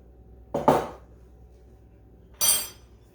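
Walnut apple fruit salad is stirred in a bowl, giving two short, separate clinks of a utensil against the dish with quiet pauses between them and no voices.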